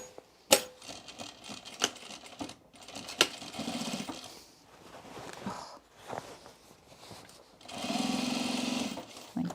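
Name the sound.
sewing machine top stitching overalls side seam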